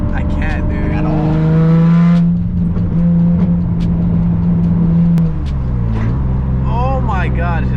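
A Nissan 350Z engine revs hard during a first drifting session, a loud sustained drone that holds steady then drops away, with people talking over it inside the car.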